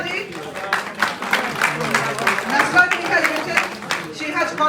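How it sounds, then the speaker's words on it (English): An audience at a general convention gives a round of applause, steady scattered clapping running throughout and partly under a speaking voice. "Nasra ji, have a round of applause for Nasra"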